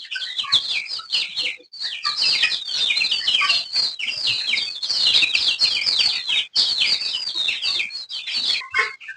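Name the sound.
chickens clucking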